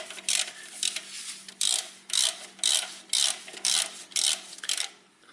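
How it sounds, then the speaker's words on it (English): A ratchet with a 12mm socket loosening a bolt during a front-wheel-drive car clutch job, making about nine quick clicking bursts in an uneven rhythm, close and clear with short pauses between them. "for that job we need this 12mm socket, and I open that also"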